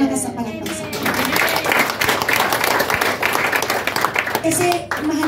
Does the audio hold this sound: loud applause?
yes